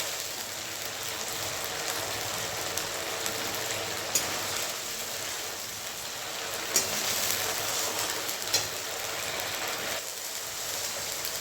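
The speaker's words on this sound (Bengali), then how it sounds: "এই যে দেখুন মশলাটা ভালো করে ভালোভাবে একদম ভেজে নেবো, তাহলে কাঁচা কাঁচা গন্ধটা থাকবে না মশলা" Spice paste with ground tomato fries in a pan, giving a steady, dense, rain-like sizzle and crackle that runs evenly throughout at close range, with a few small pops.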